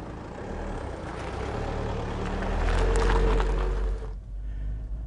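An Audi diesel car engine runs with a heavy, low, rumbling drone that swells slightly and then drops off abruptly near the end, close and steady.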